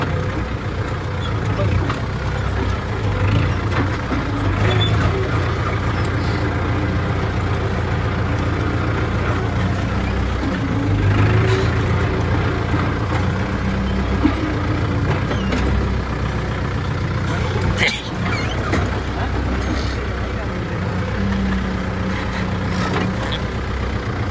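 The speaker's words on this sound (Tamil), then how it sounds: "லிம்கன் ரொட்டேட்டர் போட்டு ஓடி பார்த்தாச்சு" A tractor pulling a Lemken rotavator runs with a steady low engine drone and occasional clatter throughout, while people talk over it.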